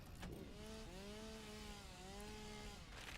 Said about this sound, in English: we'll have to do it the good old classic chainsaw way